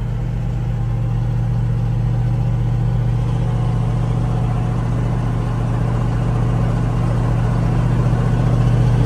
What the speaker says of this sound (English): My boss said this hill's really steep, so I gotta be in first gear.